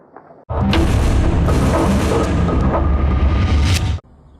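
A loud, sustained explosive roar from a wartime blast in Ukraine erupts suddenly, rumbles heavily for about three and a half seconds, then cuts off.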